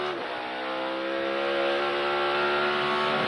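A NASCAR race car laps the track in practice for the Toyota / Save Mart 350, its engine a loud, sustained high-revving drone heard close and steady throughout.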